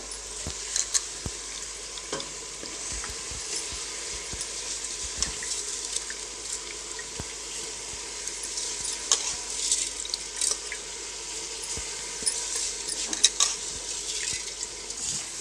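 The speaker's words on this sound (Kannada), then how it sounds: "ಈಗ ನಾನು ಅಕ್ಕಿ ಹಾಕಿದ ಮೇಲೆ ಇದನ್ನ ಎಣ್ಣೆ ಜೊತೆಗೆ ತರಕಾರಿ ಜೊತೆಗೆ ಚೆನ್ನಾಗಿ ಮಿಕ್ಸ್ ಮಾಡಿದ್ದೀನಿ" Rice, carrots and beans stirred in hot oil in a pan for a quick breakfast dish, with a steady sizzle and frying hiss, scraping spoon strokes and occasional clinks. No voices.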